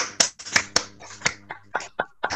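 A small group at an online literary festival reading claps in sparse, uneven bursts, about a dozen distinct claps with short gaps between them.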